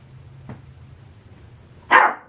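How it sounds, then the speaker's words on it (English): A single sharp dog bark rings out near the end, preceded by a faint short sound, in an otherwise quiet room. "Sorry for the dogs."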